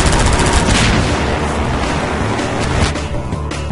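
Rapid submachine-gun fire in Half-Life 2, loud sustained automatic bursts with rattling reports over a rumbling backdrop, easing slightly near the end.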